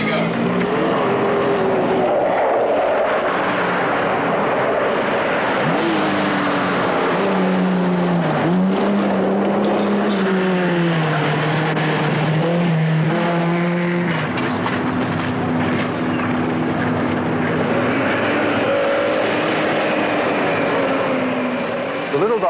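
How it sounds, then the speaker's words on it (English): A small Daihatsu Charade with a 3-cylinder 1-litre engine and 5-speed gearbox drives hard in a rally, its engine revving up and down through gear changes, loud and close, under a speaking voice. "5-speed gearbox, 3-cylinder, 1-litre engine, and away they go."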